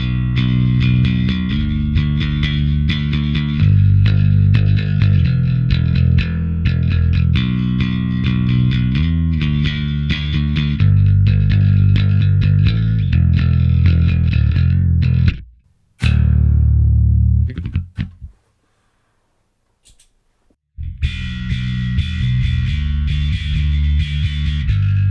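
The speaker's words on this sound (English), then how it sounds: "So now let's hear both the Sansamp and the Darkglass." Electric bass run through a Sansamp and a Darkglass pedal together, heavily distorted and loud, played in continuous riffs that stop briefly near the end with a short gap of silence before the playing resumes.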